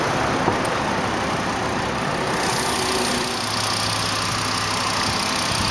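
A 2005 Volkswagen Jetta with a 2.5-liter five-cylinder engine idling with the hood up, a steady, even engine hum and broadband mechanical noise heard up close throughout, with no talk.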